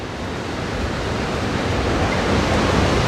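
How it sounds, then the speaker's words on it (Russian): Niagara Falls, seen from the Canadian side, roars and sprays as a steady, loud broadband wash of falling water, close and unbroken, with no speech. "В эту 30-градусную жару вообще просто душ из водопада."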